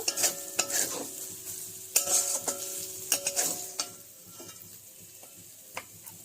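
A spoon stirs and scrapes a fish mixture of bhola fish in a pan as filling for stuffed pointed gourd, with repeated clinks against the metal pan over a soft steady hiss, with no talking.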